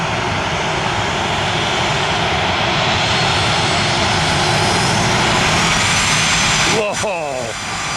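Loud, close roar of an airliner's jet engines taxiing past at Orlando airport, a sustained wash of engine noise that ends in a sharp whooshing sweep as the aircraft goes by.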